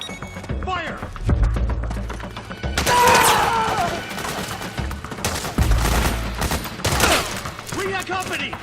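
Gunfire in the video game Metal Gear Solid 4: Guns of the Patriots: repeated loud bursts and shots with sharp cracks and metallic clatter, mixed with game voices and other combat effects throughout.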